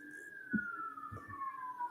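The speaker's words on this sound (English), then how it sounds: "I don't know if you can hear those sirens" Distant sirens outside, a thin, faint wailing tone that slowly falls in pitch, with soft thumps and low voices in the room.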